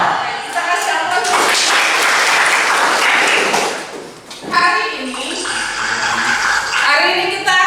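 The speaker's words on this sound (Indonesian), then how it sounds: "Kita kasih aplaus" An audience at a vocational high school (SMK) session breaks into a few seconds of brisk, crowded clapping, after which a voice speaks.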